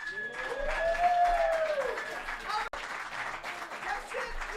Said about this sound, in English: Wow, look at that round of applause, too